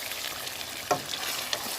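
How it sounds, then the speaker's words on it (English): Meat and crayfish are stirred in a bitterleaf stew pot, giving a steady low sizzle with two sharp scraping clinks of the spoon against the pot. "So we're going to stir this"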